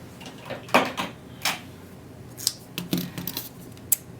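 Several sharp snipping and scraping sounds of scissors cutting through material, irregular and close, with small rustles in between and no speech.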